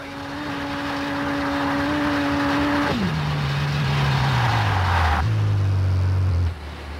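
A rally car engine in the video game Colin McRae Rally 4 drones steadily and loudly, its pitch holding then dropping in stages as the gears shift down, ending with a sudden cut.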